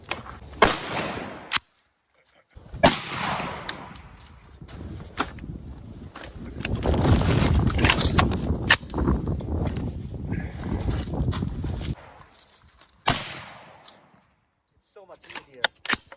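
A bolt-action rifle fires several sharp, loud shots with pauses between, mixed with clicks and handling noise of the action, while someone talks nearby.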